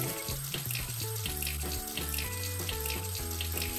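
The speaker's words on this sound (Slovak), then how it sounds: "Na prvý krok umieme si rajčinu pod vodou." A tomato is rinsed under a running kitchen tap, giving a steady, close stream of water that splashes continuously for several seconds. No one speaks, though a tonal background sound hums underneath.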